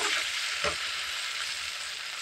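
Spice paste sautéing in hot oil for Bengali tel koi fish curry, a steady close sizzle with one brief stir scrape.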